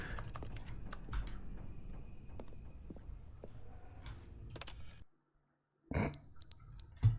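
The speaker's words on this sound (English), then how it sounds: "Oh, hey, fire alarm is going off." A beeping fire alarm in the video game The Stanley Parable: Ultra Deluxe, a short series of repeated electronic tones arriving after a stretch of keyboard typing and a brief silence.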